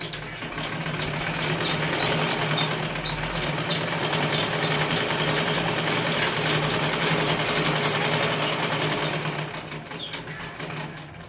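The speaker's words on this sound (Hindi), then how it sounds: "तो मैं एक सिलाई और लगाऊंगी, 2 सिलाई में ही ब्लाउज कंप्लीट हो जाना चाहिए।" A sewing machine runs steadily while stitching a blouse, a continuous close whirring hum lasting nearly the whole stretch before slowing briefly near the end, with no talking.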